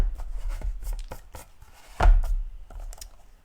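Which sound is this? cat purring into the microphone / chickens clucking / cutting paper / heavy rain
cutting paper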